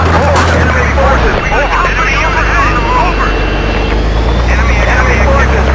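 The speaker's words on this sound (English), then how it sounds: "Enemy helicopter spotted." In Battlefield 2 on the Gulf map, an enemy helicopter drones loudly and continuously with a thick, churning engine roar, while gunfire-free radio chatter and voices talk over it.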